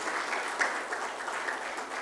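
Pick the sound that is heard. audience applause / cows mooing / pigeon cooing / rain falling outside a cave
audience applause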